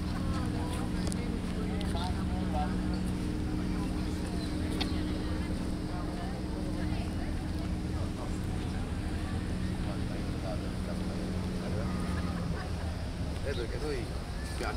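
Motorboat engines on the lake at Sirmione hum in a low, continuous drone under wind noise and faint background voices throughout.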